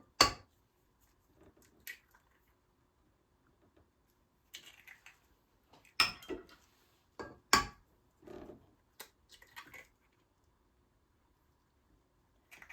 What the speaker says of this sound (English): We're going to mix this up a little bit.